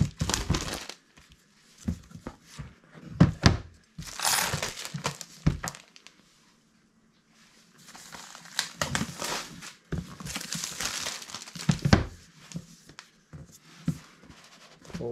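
Amplifi HD mesh WiFi system packaging being opened, with bursts of crinkling and crumpling plastic and cardboard handling close up, broken by short pauses and a silent gap partway through.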